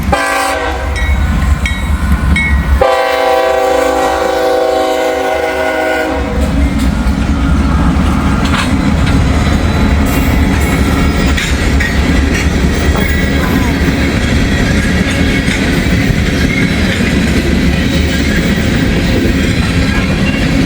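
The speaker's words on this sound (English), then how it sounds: "Looks like we got an ethanol train, gang." An ethanol freight train passes close by, horn blaring at the start, then a loud continuous rumble and clatter of rolling tank wagons.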